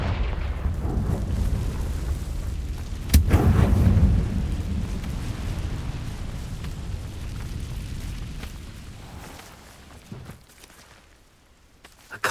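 A Confringo fire-blast spell in Hogwarts Legacy goes off as a sudden loud boom with a rumbling burst, rolling over a dense game soundscape that fades and thins toward the end.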